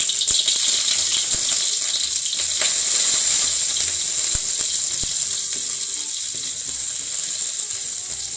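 Shallots frying in hot used cooking oil, a steady dense sizzle with scattered sharp crackles and pops throughout, close and fairly loud with no talking.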